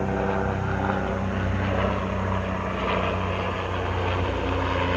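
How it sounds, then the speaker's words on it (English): A helicopter passes overhead with a loud, steady, broadband engine and rotor roar that fills the whole stretch without letting up. "Got a helicopter, sorry about the noise."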